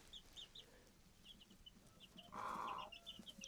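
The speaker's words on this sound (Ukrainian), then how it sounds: "От гарно півні співають зранку" Chickens cluck softly in the background in a village in winter, and a rooster gives one loud, close crow partway through in the morning.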